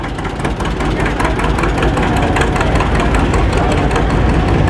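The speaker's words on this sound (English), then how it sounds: "Now that tractor sounds good." A loud, close tractor engine with a straight exhaust stack running at a steady, rumbling throb with rapid rhythmic pulses, at a cotton gin festival.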